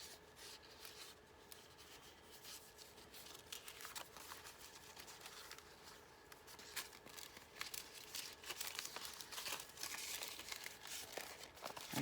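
Paper is torn and crinkled by hand, producing quiet, close rustling and ripping that grows a little busier and louder toward the end, with no voices.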